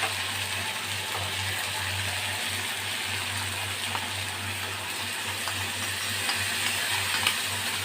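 Ginger-and-cumin fish curry masala for a Bengali bata fish curry with potato and eggplant sizzles steadily in a pan, with faint occasional stirring ticks over a low hum.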